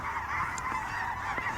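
Waterfowl honk and call over a constant windy field backdrop during a dry field duck hunt, short and fairly faint, with no talk.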